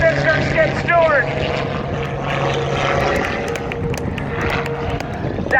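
An aerobatic propeller airplane performs at the Gaylord, Michigan air show in June 2016, its engine a steady, droning roar that carries on throughout while an announcer talks over a public address system.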